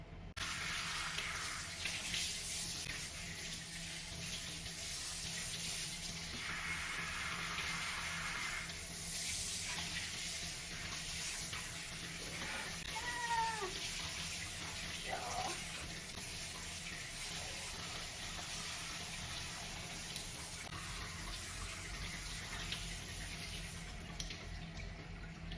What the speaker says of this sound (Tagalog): Dito, mag-shower ka muna.